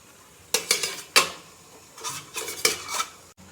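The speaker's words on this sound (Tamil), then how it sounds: "இப்போ உள்ள வச்சுக்கலாம்." Kozhukattai dumplings being set into a steamer over boiling water, with close, sharp clatters and knocks of pots, lids and utensils in two quick bursts, no talking.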